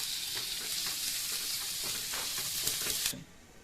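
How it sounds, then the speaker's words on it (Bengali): Onion and ginger sizzle together in hot oil in a pan for a home-style moong dal with prawns: a steady, close crackling hiss with small stirring pops, which cuts off abruptly near the end. "পেঁয়াজ আর আদা দুটোই একসাথে ফ্রাই হয়ে যাবে আমাদের"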